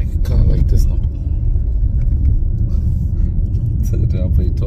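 A low, steady engine and road rumble fills the inside of a moving car, loud and continuous with a few faint clicks on top.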